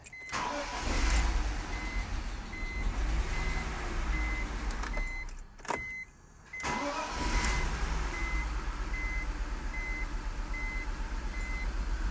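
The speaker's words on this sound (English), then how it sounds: "let's give her the old key turn and start getting this cooling system bled, see how she runs." A BMW engine, just fitted with a new fuel filter and having its cooling system bled, runs at a steady idle with a low rumble and regular chime beeps. It dips briefly near the middle, then settles back into running.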